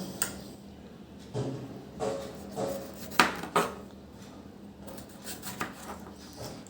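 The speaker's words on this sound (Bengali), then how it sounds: "এখন এই টমেটোটা কেটে নিব।" A knife chops through a tomato on a cutting board in a village kitchen, with several sharp, irregularly spaced knocks of blade on board, fairly close and clear against a quiet room.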